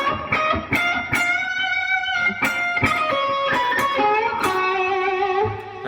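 An electric guitar plays a bright phrase with effects and light distortion, quick picked notes and clipped upstrokes ringing close and clear without voices.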